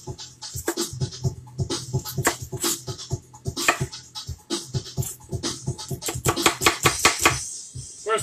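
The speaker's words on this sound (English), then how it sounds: "we're going to slice up an onion" A knife slices through an onion on a cutting board, a quick run of crisp, close cuts with a few faint clicks between them and no talking.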